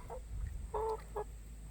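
A rooster gives a few short, soft clucks, a brief murmured call followed by a couple of quick notes over a low background hum.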